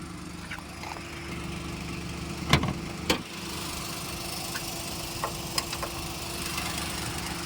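A 2017 Maruti Alto 800 LXi petrol engine idles with a steady, low mechanical drone, broken by a couple of sharp clicks and knocks partway through.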